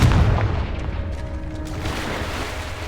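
A heavy explosion from a Confringo blasting curse opens with a loud low boom, then rolls into a long, rumbling fade with no voices over it.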